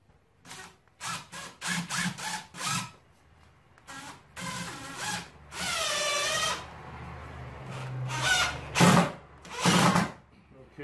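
A power drill drives self-tapping screws in short bursts, several quick whirring runs separated by pauses, with one longer grinding drive in the middle, close and fairly loud.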